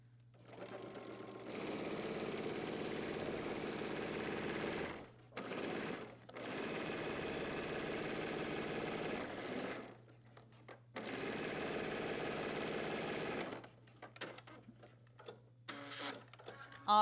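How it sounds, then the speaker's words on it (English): A sewing machine stitches the center back crotch seam of a pair of pants at a 5/8 inch allowance, running in several steady bursts separated by brief stops, with light handling clicks toward the end. "But now we are going to stitch the center back crotch seam and 5/8 of an inch."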